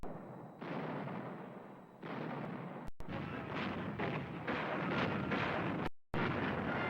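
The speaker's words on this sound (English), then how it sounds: "French artillery." French artillery guns fire in WWII archival footage, a series of loud, heavy booming blasts with rumbling roar between shots, dense and continuous, with a brief dropout near the end.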